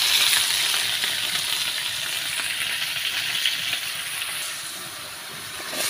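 Fish frying with masala on a clay stove in a village kitchen, a steady close sizzle and hiss with faint stirring, continuous throughout.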